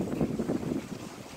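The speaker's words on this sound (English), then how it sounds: "That's what I was talking about, how it's so windy." Strong wind buffets the microphone in low, rumbling gusts that swell and fade over a moment.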